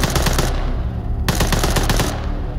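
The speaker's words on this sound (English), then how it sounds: "this one is equipped with a machine gun" Sustained machine-gun fire from an armed drone in Arma 3, loud continuous rapid bursts with a brief lull, close and dense throughout the clip.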